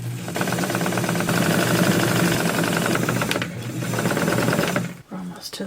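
A sewing machine stitching the hem of a doll's dress, running in a steady fast whirring rattle close by for several seconds before stopping, with someone talking over it.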